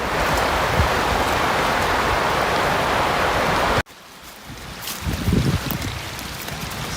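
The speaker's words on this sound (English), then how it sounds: "Next to the stream down there, which falls from the waterfalls up there." A snowy stream fed by waterfalls rushes as a loud, steady broadband roar that cuts off abruptly midway, leaving quieter, closer water trickling and splashing.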